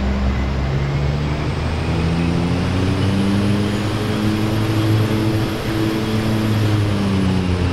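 An OV-10 Bronco propeller aircraft rolls into its takeoff in the DCS World flight game: a loud, steady engine drone with layered propeller tones that slowly shift in pitch, continuous throughout with no talking.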